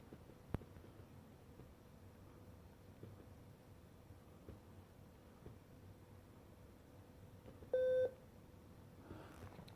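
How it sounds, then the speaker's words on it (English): Faulty power adapter charger giving a single short electronic beep, fairly clear against a quiet, faint background hum with a few small clicks. "Just keeps beeping. It's not showing any charge."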